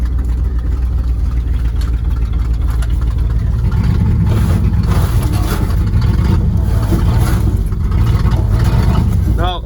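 Engine of a 1971 Ford Highboy truck revving hard in below-zero cold while the tires spin, a loud continuous roar throughout with someone talking over it.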